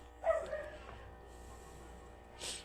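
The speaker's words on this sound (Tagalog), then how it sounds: "Ayan ang ingay ng aso." A single faint dog bark far off in a quiet room, followed by a low background hum.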